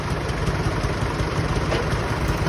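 Tractor engines idle together at a farmers' union road show protest on 26 January, a loud steady low rumble that stays constant and close with no voices.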